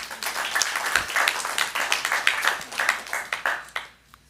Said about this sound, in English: Is that the first time I heard an ovation or applause for announcements?